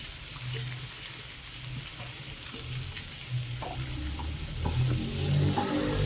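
Chopped onions sauté with ginger, garlic and green chili in a pan, giving a steady, fairly loud sizzle with soft stirring scrapes and occasional small pops throughout.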